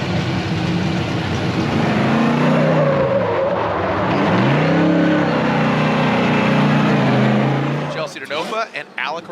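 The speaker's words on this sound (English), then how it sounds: "the Pennzoil BC Racing Mustang RTR Spec 5D" Pennzoil BC Racing Ford Mustang RTR Spec 5D race car engine revving loudly at a round 4 competition battle, pitch climbing and falling through repeated throttle swells before cutting off sharply near the end.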